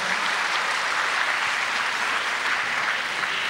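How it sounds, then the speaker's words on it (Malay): Thunderous applause for Universiti Kebangsaan Malaysia, the host, at a PTPTN advance-fund presentation ceremony. A dense, steady wash of clapping from a large crowd, loud and unbroken throughout. "mari kita beri tepukan gemuruh kepada Universiti Kebangsaan Malaysia"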